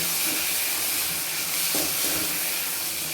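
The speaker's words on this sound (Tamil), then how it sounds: "அடுத்தது பட்டை மிளகாய், தக்காளி, பூண்டு இதெல்லாம் வதக்கிடலாம்" Chili, tomato and garlic sautéing in a pan, a steady soft sizzle and hiss running throughout at moderate level, with a couple of faint stirring knocks.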